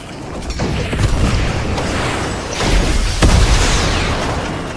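A rocket blast in the Fortnite game, a rumbling explosion with a couple of sharp bursts on top, loud and close, followed by a second heavy boom a few seconds later, with no voices.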